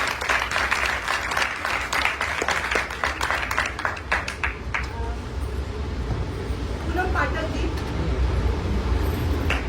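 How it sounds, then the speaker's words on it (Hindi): An audience at an honouring ceremony during a theatre show at Tagore Theatre applauds. Dense clapping fills the first half and then thins and fades into a low, noisy room murmur. "तालियां जरूर मिलनी चाहिए सम्मान के साथ में।"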